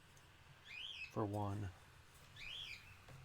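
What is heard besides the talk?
birds chirping in the background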